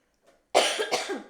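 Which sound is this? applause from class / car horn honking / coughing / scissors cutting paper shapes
coughing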